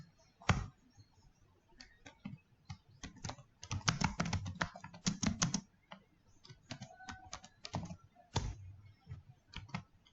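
Typing Java code on a computer keyboard, close, crisp key clicks arriving in quick uneven bursts with short pauses, including a dense flurry in the middle, no talk.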